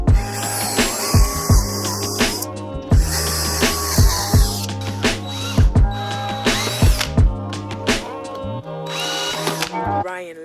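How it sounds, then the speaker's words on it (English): A power drill bores pocket holes in wood pieces for a DIY miter saw stand in a two-car garage shop, in repeated loud whirring bursts that rise and stop, a handful of separate runs close to the mic. "with everything marked up, it's time for pocket holes"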